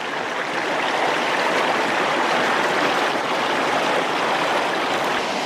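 A gold-prospecting stream over bedrock and gravel flows steadily. The rushing water sound is loud and continuous, with no voices.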